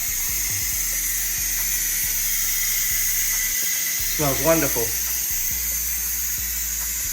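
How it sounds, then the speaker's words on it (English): Steam hisses steadily out of a pot of jerk oxtails as it is released, forming a constant bright hiss throughout, while a person briefly speaks partway through. "so I let the steam out"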